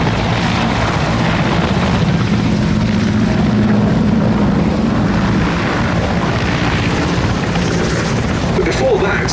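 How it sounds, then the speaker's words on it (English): A Curtiss Hawk 75A-1 propeller fighter, an ex-French Armée de l'Air airframe from the Battle of France, flies past with a steady, loud, rough engine and propeller drone that holds for the whole stretch. "this is a genuine ex-French Armée de l'Air Hawk 75A1 that flew during the Battle of France."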